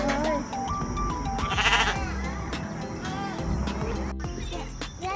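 Sheep bleat on a hillside sheep farm, with several wavering calls through a busy, fairly faint mix of background sounds and some talk.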